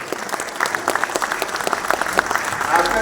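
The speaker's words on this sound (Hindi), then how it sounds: "तीन लोगों के लिए सबसे पहले ताली" A gathering at a Patna school Republic Day program breaks into clapping for three helpers, a lively burst of many hands, close and fairly loud, with a few individual claps standing out and faint voices underneath.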